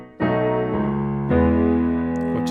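Piano bass line, with a few low notes struck in turn under sustained chord tones. Clear and close, with no voice.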